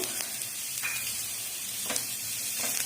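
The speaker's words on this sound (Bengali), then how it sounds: "পেঁয়াজ কুচিগুলো একটু লাল লাল ভাজা হোক।" Gentle, steady sizzling of chopped onions frying in oil, with a few faint clicks of stirring utensils.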